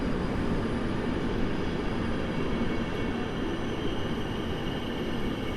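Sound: EP09 locomotive hauling Intercity Chopin train at station

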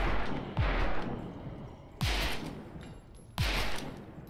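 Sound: gunfire in a video game shooter

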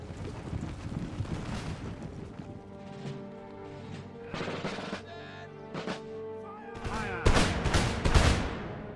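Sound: musket fire volley in video game Empire Total War

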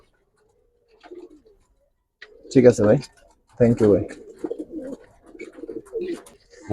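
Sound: Giribaz pigeons cooing

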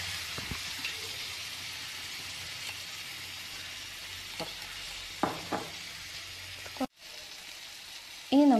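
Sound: chilli prawn masala sizzling after adding vinegar

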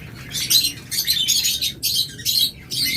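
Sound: pet birds (lovebirds, budgerigars, Java sparrows) chirping in cage

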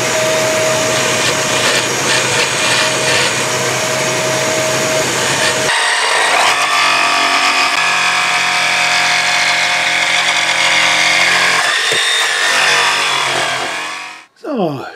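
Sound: jigsaw cutting an elongated hole in wood

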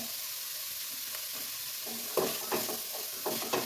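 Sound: stirring banana flower thoran frying in a pan

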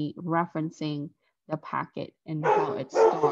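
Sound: dog barking

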